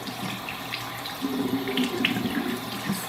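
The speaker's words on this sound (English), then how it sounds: "I'm gonna wet my face, which is, I just like to use cool water." A bathroom sink tap runs cool water as someone wets their face, a steady soft splashing stream with a few louder splashes midway, fairly close and without talk.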